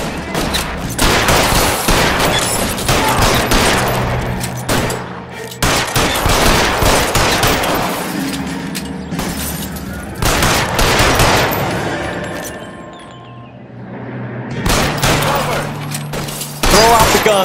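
Sustained gunfire in the video game L.A. Noire, dense volleys and rapid shots, loud and close, with voices heard between bursts and a brief lull near the end.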